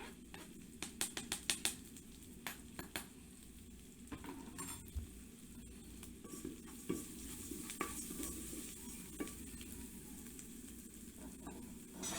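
Chopped garlic sizzles in a frying pan while a utensil stirs it. A quiet, continuous hiss runs under frequent light scraping and clinking of the spatula against the pan.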